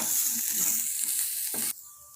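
Chickpea flour balls being stirred in a pan, a steady close sizzle with scraping strokes, then the hiss cutting off abruptly near the end and leaving a faint quiet tone.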